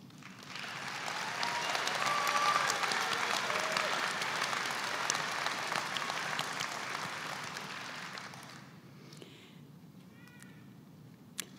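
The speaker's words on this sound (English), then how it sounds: "Please give our graduates who earned academic honors another round of applause" Sustained applause from a graduation ceremony crowd honoring cum laude pharmacy graduates, a dense broad roar of clapping that swells, holds for several seconds, then thins out and fades toward the end.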